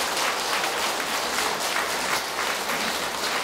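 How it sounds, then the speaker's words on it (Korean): Audience applause at a Catholic spiritual retreat lecture, given in honour of people over seventy: dense, steady clapping from a sizable crowd throughout, with no talk over it. "이렇게 70 넘으신 분들을 위해서 박수 한번 쳐봐"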